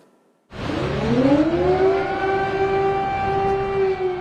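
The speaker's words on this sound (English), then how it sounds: "Air raid sirens blared across Kyiv on Thursday" An air raid siren in Kyiv starts abruptly and swells upward into a loud, steady wail that holds without fading.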